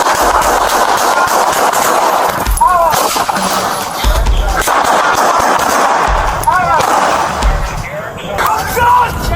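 Police officers open fire, with loud gunshot bursts mixed into a shouting confrontation. The recording is close and harsh, and raised voices run throughout.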